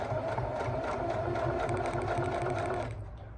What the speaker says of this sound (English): now I'm just gonna start sewing my pieces together, starting with the front leg